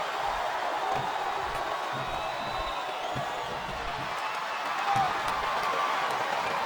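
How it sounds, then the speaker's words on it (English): A large crowd in the wrestling video game WWE SmackDown vs Raw 2007 roars and murmurs continuously, a steady wash of cheering noise with no clear breaks, fairly loud throughout. "This capacity crowd is making their opinions known tonight."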